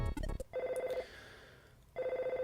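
Two bursts of a chiptune telephone ring from the video game EarthBound, each a rapid warbling electronic trill, loud and close, separated by a short gap.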